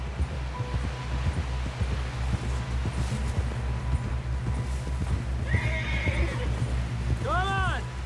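A horse in Red Dead Redemption 2 clops along steadily at close range, then lets out a loud whinny near the end, with continuous low rumble and a voice talking over the hoofbeats.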